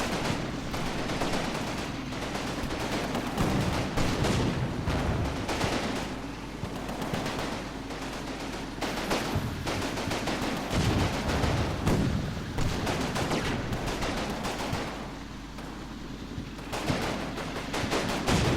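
Dense wartime gunfire in the tactical game Combat Mission: sustained rifle and machine-gun bursts with heavier booming reports, loud and continuous for the whole stretch, with no voices over it.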